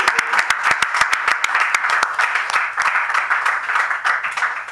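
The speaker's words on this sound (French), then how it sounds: "Applaudissez très très fort pour l'honorable." An audience at a press conference breaks into lively applause, with sharp, close individual claps standing out over a steady crowd of clapping hands.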